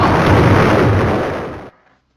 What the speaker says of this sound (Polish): Bomba wybucha, dlatego to będą petardy